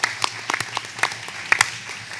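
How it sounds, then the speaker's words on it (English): Sparse applause for Sheila McNeil at an airport infrastructure meeting, a few scattered, uneven claps from a small group, close and brief. "let's give her a round of applause"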